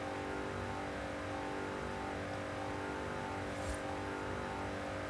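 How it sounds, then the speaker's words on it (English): Car engine drone in the racing game Forza Horizon 5, a steady tonal hum with a subtle hissing pulse in the noise, constant in level throughout with no voices. "There's this weird kind of hissing pulse."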